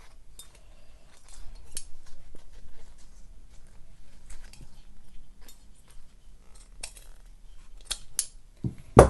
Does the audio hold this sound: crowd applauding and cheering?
no